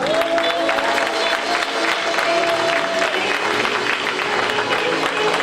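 A church congregation at an evening worship rally in Paris applauds and cheers steadily, a broad wash of clapping from a crowd in a hall, with voices mixed underneath.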